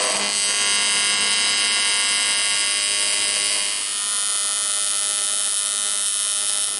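Welding a plate onto a supercharger base for twin M90 superchargers on a small block Chevy, a loud steady electric buzz with a dense harmonic hum that continues unbroken throughout.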